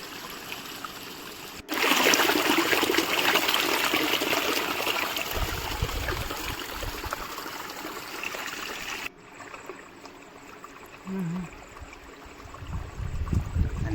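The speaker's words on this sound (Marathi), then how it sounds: "हा बघू शकता छोटासा झरा, आणि इकडे छोटीशी बाग आहे, त्याच्या बागेत पूर्ण पाणी साचलंय त्या झऱ्याचं." A small spring-fed stream in a village garden during the monsoon season, water trickling and flowing steadily nearby, with a brief change in level partway through and no talking.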